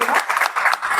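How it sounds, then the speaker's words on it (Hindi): Audience applause welcoming a singer at a Hindi poetry and devotional recital, a brief burst of steady clapping from a gathered crowd that runs the whole moment without any voice. "एक बार जोरदार तालियों से स्वागत कीजिएगा"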